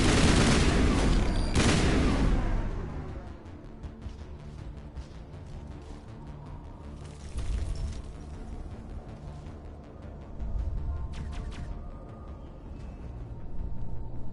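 Gunfire in a Mass Effect battle: a heavy loud burst at the start, then scattered shots and short bursts crackling at mid distance under a steady background rumble, with no talking.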